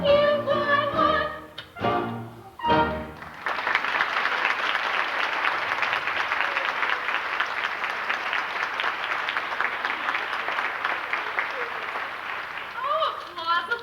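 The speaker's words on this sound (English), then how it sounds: "Oh, applause." A theatre audience at a stage production of Damn Yankees breaks into steady applause after a few seconds of talking, the clapping holding loud and dense for about ten seconds before a voice returns.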